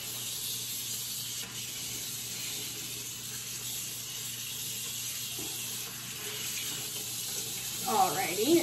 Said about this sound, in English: So I will get my hands washed with this